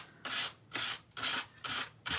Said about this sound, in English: Adding a little sanded texture.